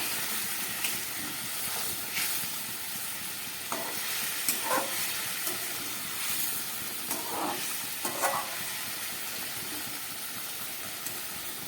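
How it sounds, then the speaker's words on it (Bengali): A little water added to pabda fish frying with brinjal in a pan gives a continuous hiss and sizzle with steam, broken by a few brief sputtering bursts. "এবার আমি সামান্য জল দিয়ে দিচ্ছি"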